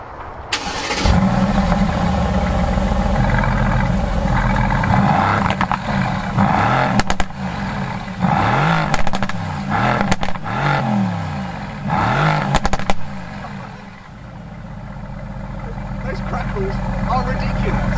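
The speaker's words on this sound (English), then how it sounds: "aspirated V8 that used to be in the SLS AMG and C63s sounds amazing" A naturally aspirated V8, the engine once fitted to the SLS AMG and C63, starts and revs through its stock exhaust in a series of loud, close blips and crackling surges before settling to a deep idle, with a voice talking over it.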